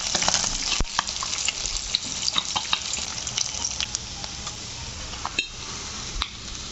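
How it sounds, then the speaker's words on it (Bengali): Catla fish pieces frying in hot oil, a dense continuous close sizzle peppered with sharp spits and pops, a few louder crackles standing out, no voices. "তেল গরম হয়ে গেছে আমার, মাছটা দিয়ে দেবো।"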